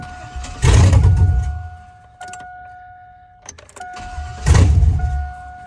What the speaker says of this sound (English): All right, so it won't start, but it is wanting to.